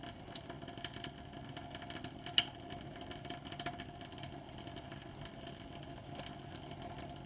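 Spring water runs steadily from a pipe or tap in summertime, a constant close splashing rush with no pauses and no voices.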